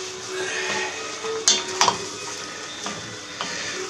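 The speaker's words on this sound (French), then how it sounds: "on va ajouter notre oignon ciselé" Three finely chopped onions hitting a hot pan with seafood stew ingredients, a steady close sizzle broken by a few sharp clatters of a utensil against the pan.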